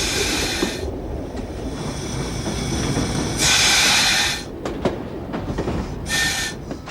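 A train on a country railway line approaching Battersby Junction rumbles steadily with rail clatter, joined by bursts of high hissing squeal from the wheels, loud and close throughout.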